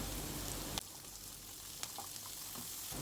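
Crushed ginger, green chili and garlic with mint fry in a pan, giving a steady, moderate sizzle with a couple of sharp crackles and pops, close by and free of speech.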